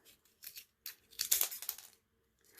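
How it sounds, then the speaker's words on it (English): A pair of scissors cuts through classroom decor material in a few quick snips, with short bursts of crisp cutting noise separated by pauses. "You can go through with scissors."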